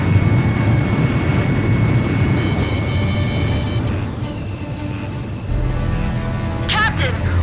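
Jet fighter aircraft in the video game Ace Combat 5 produce a loud, continuous roaring engine rumble, with a brief dip and whine midway, while radio voices talk over it.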